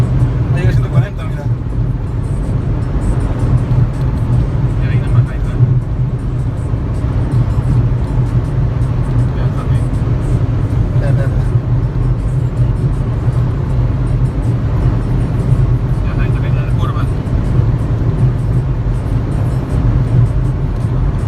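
A 2013 Audi A3 2.0 TDI cruises at top speed, near 140 miles an hour, with a steady loud low engine and road drone and constant wind rush, while a person talks over it.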